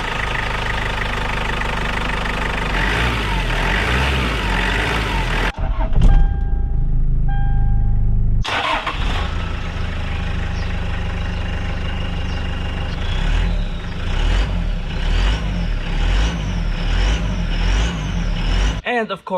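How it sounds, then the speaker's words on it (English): Toyota Land Cruiser Prado LC120 diesel engine running loud and rough with a clattering, truck-like drone, broken by a short quieter gap before the steady rumble resumes. "the engine is really loud and sounds like a typical diesel truck"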